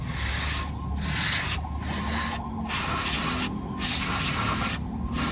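Leak cleaner sprayed from an aerosol can onto an engine valve cover: a loud, steady, close hiss runs throughout, broken by several brief dips, with no talk.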